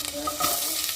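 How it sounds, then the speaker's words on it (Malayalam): Mustard seeds, ginger and crushed garlic sizzle in hot oil in a home kitchen pan, a brief, soft, steady frying hiss. "എണ്ണ ഒഴിച്ചു, കടുകിട്ടു, ഇഞ്ചി വെളുത്തുള്ളിയും ചതച്ചിട്ടു,"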